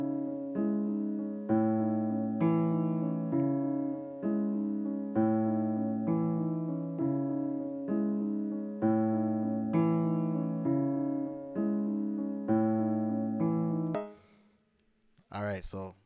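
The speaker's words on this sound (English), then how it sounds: "it sounds like this after I added the halftime" A piano trap melody slowed with a halftime effect repeats a darker, heavier chord pattern in even pulses, then cuts off near the end into a short burst of noisy glitch.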